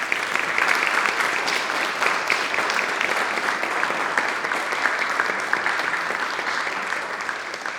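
Steady audience applause in a large Chicago auditorium welcoming speakers at an artist conversation event, a dense, sustained clapping that holds evenly loud throughout and fades only slightly near the end.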